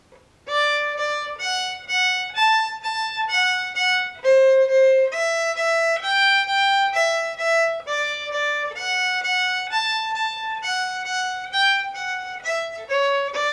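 Fiddle playing the French-Canadian tune La Bastringue with every chord note doubled, a steady run of paired bowed notes in even lengths, bright and close, no talking.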